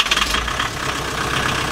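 A rebuilt diesel engine in a Volkswagen Passat idles with a steady, dense clatter, close and fairly loud, with no talk over it.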